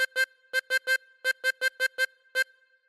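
Chromatic harmonica plays the opening phrase of Old MacDonald Had a Farm as a string of short, clean, reedy notes in a bouncy rhythm with brief gaps between them, alone and moderately loud.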